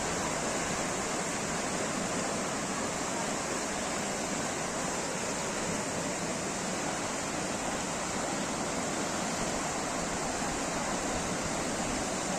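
Floodwater of the Gareshwar river, swollen by the combined outflow of two dams after heavy rain, rushes at full speed in a steady, loud, unbroken roar with no voices over it.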